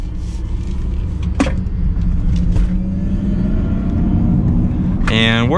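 A 2022 Mercedes-Benz EQS 450+ electric sedan accelerating, a steady low road rumble and rising tone heard from inside the cabin, with a brief knock partway through and a chime near the end.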